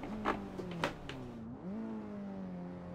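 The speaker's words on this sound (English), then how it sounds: "Over-rev the engine slightly there." Race car engine in the Assetto Corsa driving game holds a loud, steady high-pitched whine, then dips and sharply revs back up past its limit before settling into a sustained tone, with no talking.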